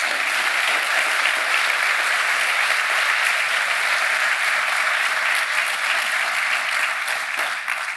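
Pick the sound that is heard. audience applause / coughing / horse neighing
audience applause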